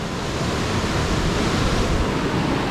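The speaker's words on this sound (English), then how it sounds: "the action of the waves right here, going pretty good" Steady broadband rush of ocean waves churning alongside a cruise ship at sea, heard from a cabin balcony on the way to Cozumel, loud and continuous with a wind-like hiss and no voices.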